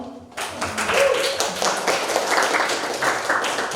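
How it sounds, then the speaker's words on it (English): Group applause at a leadership training session at the Singapore Embassy, a dense, continuous patter of many hands clapping together at steady loudness after a brief quiet start. "round of applause for us all."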